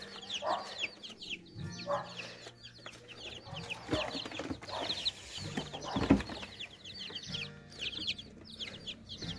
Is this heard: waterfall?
no